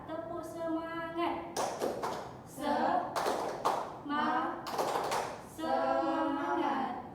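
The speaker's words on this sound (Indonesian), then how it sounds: "Tepuk semangat." A classroom group performs the rhythmic 'tepuk semangat' clap, with bursts of claps alternating with chanted voices in a steady, repeated pattern.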